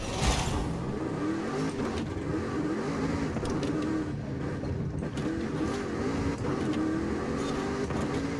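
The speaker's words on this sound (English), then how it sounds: "The sound of those gear changes is insane." A racing car engine in Forza Horizon 5 roars steadily, rising and dropping in pitch as it shifts through gears, loud and continuous throughout.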